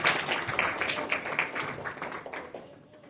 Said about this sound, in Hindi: सभी लोग जोर से तालियां बजाएं